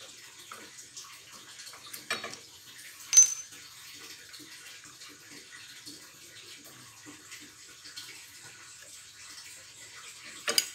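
Disc brake caliper parts, including pistons, being washed with water: a faint, steady trickling hiss with a couple of brief louder splashes or knocks, heard alone.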